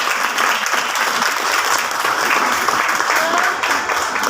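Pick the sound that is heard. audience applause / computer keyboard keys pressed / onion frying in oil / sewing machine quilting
audience applause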